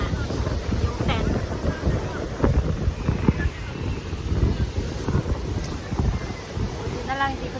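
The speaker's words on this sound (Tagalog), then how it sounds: "Ang hangin." Strong wind buffets the microphone at Zushi Beach, Kanagawa, a steady low roar with gusts throughout, while faint voices talk and boat or surf sounds blend in the background.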